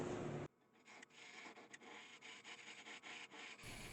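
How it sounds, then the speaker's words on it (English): Hand sanding the inside of a small wooden egg box, a close, steady rubbing and scraping of abrasive on wood in repeated strokes, after a brief louder noise at the start. "Now it's just a matter of smoothing out the inside to make it look finished."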